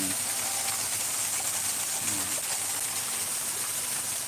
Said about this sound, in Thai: น้ำไหลมานะฮะแล้วก็ผ่าน